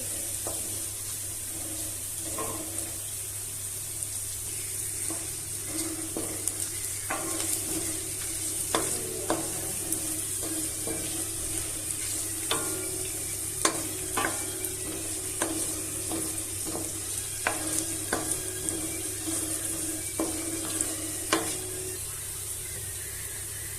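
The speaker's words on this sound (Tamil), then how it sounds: "வெங்காயம் கொஞ்ச நேரம் நல்லா செவந்து வரட்டுங்க" Onions browning in a pan for a quick chicken dish sizzle steadily at moderate volume. Sharp spatula taps and scrapes recur at uneven intervals, and a low hum runs underneath.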